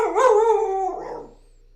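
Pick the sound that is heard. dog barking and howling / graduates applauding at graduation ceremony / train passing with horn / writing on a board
dog barking and howling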